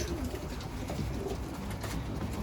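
Pigeons, Adana and tumbler breeds, coo softly and repeatedly inside a coop against a steady background hiss, with no talking.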